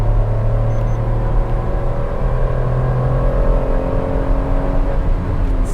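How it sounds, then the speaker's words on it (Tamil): A Maruti Suzuki S-Presso engine revs in third gear, a steady, rising drone with a close, continuous hum and no voices. "ஸோ இப்போ 3rd கியர் இருக்குது, நல்லா ரைஸ் பண்ணி பார்ப்போம்."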